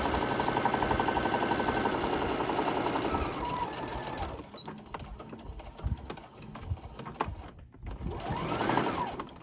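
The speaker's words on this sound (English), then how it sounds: "you're going to sew all the way down to the end" Sewing machine stitching a fabric Santa sack, running in a dense rapid whir for about four seconds, then stopping; a few handling clicks and rustles follow, and a short burst of stitching comes near the end.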